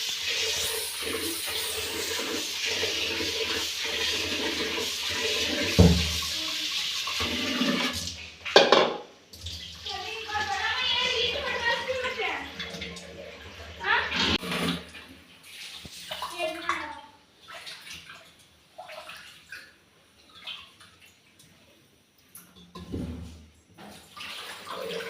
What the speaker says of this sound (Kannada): ಅದಾದ ನಂತರ ಅಕ್ಕಿ ತೊಳ್ಕೊತೀನಿ